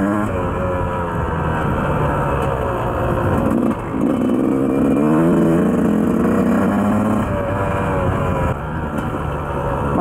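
A 2004 Yamaha YZ 125 two-stroke motorcycle engine buzzes steadily while being ridden, its pitch rising and falling with the throttle and one brief dip, loud and close throughout with no talking.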